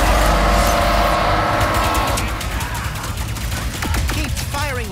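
Dense, rapid weapon fire from Ratchet & Clank: Rift Apart, loud bursts and clattering shots packed together with a busy battle din throughout, heaviest in the first two seconds and then continuing slightly lower.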